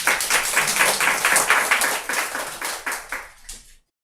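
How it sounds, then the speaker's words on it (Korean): A church congregation at a Sunday service claps in a burst of applause for several seconds, the claps thinning and fading out before silence. "에런이에게 박수를 보내드립니다"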